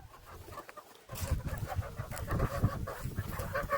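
Chickens cluck and scuffle close by, with a brief quiet moment before busy farmyard noise picks up.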